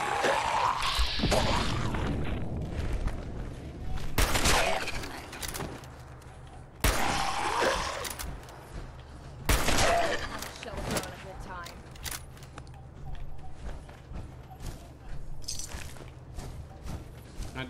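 Turret gunfire in Fallout 4 cracks out in several sharp, loud bursts spaced a few seconds apart, set against steady game noise and someone talking over the action.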